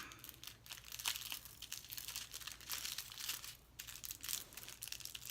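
Diamond painting drills being poured into a tray, a steady, close crinkling and rattling that lasts throughout with no talk.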